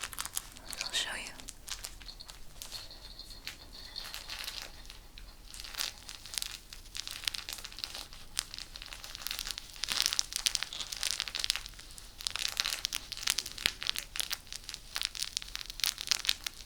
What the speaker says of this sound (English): it's got some kind of crinkly sounds going on inside of it